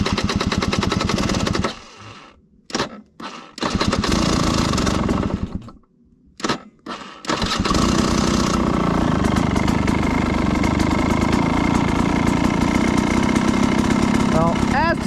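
A carbureted KTM 300XC-W two-stroke dirt bike on choke in 30-degree cold, cranking and sputtering through several short failed tries before catching and settling into a loud, steady, crackling idle.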